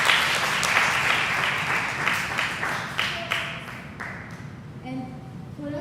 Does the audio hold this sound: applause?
yes